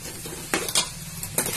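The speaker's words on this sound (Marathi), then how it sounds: "मी याला अजून चांगलं भाजून घेणार आहे।" Masala roasting in a pan over low heat gives a soft sizzle, broken by a few quick scraping strokes of a spoon stirring against the metal.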